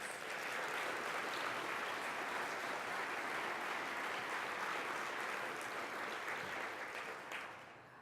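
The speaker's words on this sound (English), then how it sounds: "Let's give them all another round of applause, please" A large alumni audience at a university awards celebration dinner keeps up sustained applause, an even, continuous roar of many hands clapping that holds steady at moderate distance for several seconds before easing off at the end.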